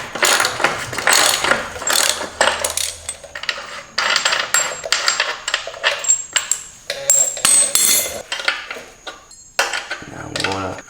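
A ratchet with a 36 mm socket loosens the rear axle nut on a BMW S1000RR motorcycle, giving loud, close runs of rapid clicking in repeated strokes, with brief pauses and some talk mixed in.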